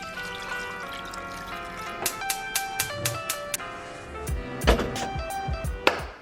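Water poured into a cooking pot over meat, oregano and a splash of apple cider vinegar, with a series of sharp clinks and splashes and a trickling, close-up pour that swells near the end, no talking.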